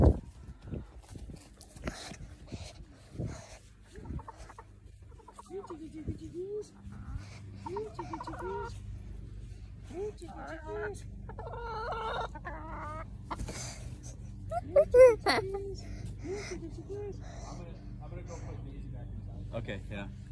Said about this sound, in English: Roosters and chickens just walk over back to your shed.